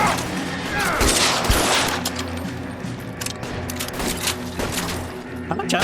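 Gunfire in the video game L.A. Noire, loud rapid volleys of shots and booming blasts cracking repeatedly through a tense orchestral score, sustained across the whole stretch.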